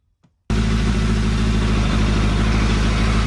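A motorcycle engine with freshly tuned carburetors bursts into life after a brief click, then runs at a steady, loud, close idle with an even throbbing beat and no voices.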